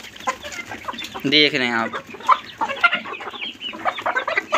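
Chickens, including a black rooster, cluck close by as they eat food scattered for them, with someone talking over the birds throughout.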